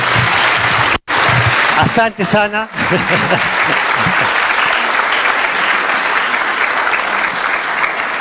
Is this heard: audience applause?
yes